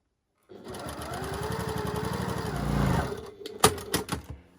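A sewing machine stitches quilt block pieces together, running steadily and close for about three seconds, then stopping, followed by a few short handling clicks and knocks.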